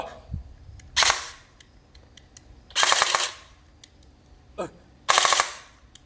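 An airsoft gun fitted with a Perun ETU board fires three close, loud full-auto bursts, each about half a second to a second long, separated by quiet pauses with a faint click between them.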